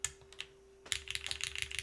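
Fast typing on a custom mechanical keyboard with a split spacebar and bright-sounding switches. The clicks are close and crisp, with a brief pause before a dense run of keystrokes, and there is a steady faint hum underneath.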